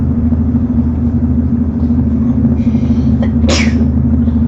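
A single sharp sneeze bursts out over a steady low engine rumble of an off-road truck in the Mudrunner driving game, the vehicle droning continuously throughout.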